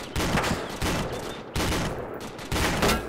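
Gunfire in an Arma-style military sim game: four rapid bursts of automatic shots at a roughly regular rhythm, loud and close, with no talk.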